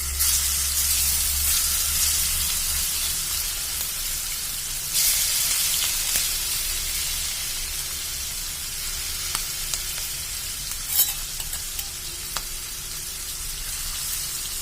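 Prawns fry in coconut oil in a pan with a loud, continuous sizzle and spit, the steady hiss broken by a few sharp crackles and light stirring clicks.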